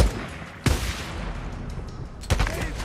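Two sharp, loud gunshots ring out in the post-apocalyptic PC game Days Gone, roughly a second and a half apart, over a steady low game ambience with no talking.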